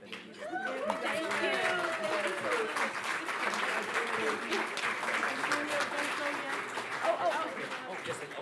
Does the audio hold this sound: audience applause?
yes